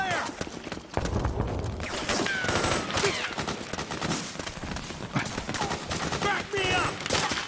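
Sustained bursts of gunfire and explosions from the video game Metal Gear Solid 4: Guns of the Patriots, a dense, loud battle din with rapid shots and impacts throughout, alongside scattered shouted voices.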